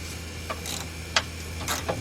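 A 3/8 drive ratchet turning a strut nut on a 2008 Ford Fusion, giving a few faint, separate clicking bursts spaced about half a second apart over a low steady background hum.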